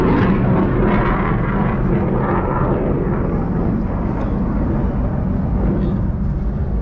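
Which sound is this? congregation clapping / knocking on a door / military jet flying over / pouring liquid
military jet flying over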